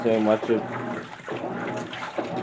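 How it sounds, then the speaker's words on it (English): Water pours into the tub of a GE washing machine running a Casuals cycle with decorative pillowcases, a soft, continuous splashing rush heard under a person talking nearby. "Now that I add more water"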